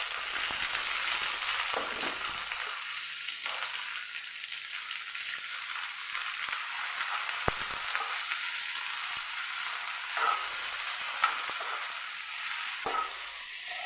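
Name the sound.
tomato, onion, chilli, garlic, ginger frying in coconut oil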